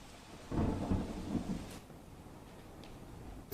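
Heavy monsoon rain in Valsad city, where streets are flooded, with a low rumble of thunder and a steady roar of downpour that swells for about a second before easing to a softer rain wash.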